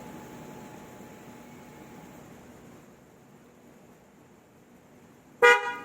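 After a few seconds of quiet low hum, a single loud, bright Bosch snail horn blast sounds abruptly near the end from a CFMoto 700MT motorcycle, harsh and brassy.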